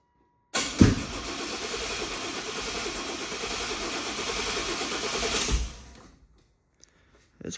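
A GMC engine cranks and catches, then runs roughly at a loud, steady, rattling idle for about five seconds before cutting off abruptly, with no voices heard.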